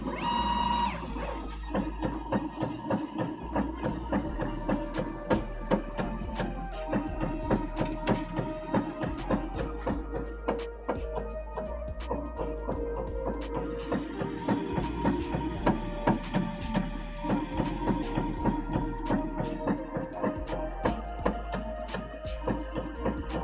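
A Prusa Core One+ 3D printer homing, with a dense run of rapid stepper-motor buzzes and clicking moves that repeat steadily for over twenty seconds and stay moderately quiet, with no voices.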